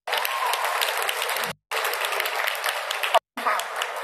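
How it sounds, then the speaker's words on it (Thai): An audience applauds steadily at a ladyboy beauty contest, Miss Andaman Pride 2023. The dense clapping is cut by two brief silent gaps. "ขอเสียงปรบมือเป็นกำลังใจให้ครับ"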